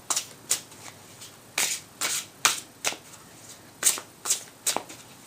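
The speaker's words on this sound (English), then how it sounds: "And so I'll get 3 cards from the China Tarot." Tarot cards from a China Tarot deck are shuffled and drawn: a quiet series of crisp riffling bursts and flicks in an irregular rhythm, close by, with no voices.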